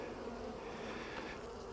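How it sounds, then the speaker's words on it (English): Honeybees buzzing around an open hive during a fall inspection, a soft, continuous swarm hum close by with no talking. "Lots of bees."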